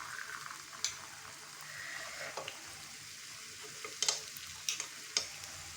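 Sweet wheat kuzhi paniyaram frying in a pan, giving a faint, steady sizzle with a few sharp ticks and scrapes as the pieces are turned, close by and quiet, with no talk.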